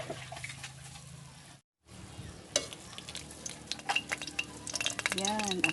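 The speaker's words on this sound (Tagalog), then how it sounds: "Ihaw tayo mga sisters ng nahuli nating palad" Freshly caught palad, a white-fleshed fish, grills with a soft steady sizzle and crackle, a brief dropout partway, then sharper pops and faint clinks of utensils nearby.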